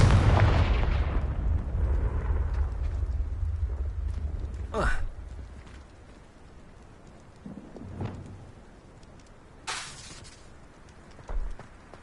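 Explosions from the Confringo spell in the video game Hogwarts Legacy: a heavy rumbling blast at the start fades out, followed by a few sharper whooshing bursts and thuds spaced over the following seconds.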